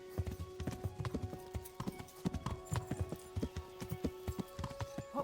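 Horse hooves clip-clopping at a walk in the medieval game Kingdom Come: Deliverance, a steady rhythmic series of many close hoofbeats over faint ambient tones.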